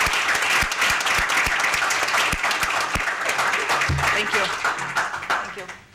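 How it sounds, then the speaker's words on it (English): Applause breaks out at a county board meeting as office staff stand to be honored: steady, full clapping from the room that carries on for several seconds and thins out toward the end, with a few voices audible underneath. "I think you deserve a round of applause as well"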